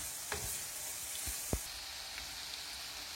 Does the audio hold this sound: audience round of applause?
no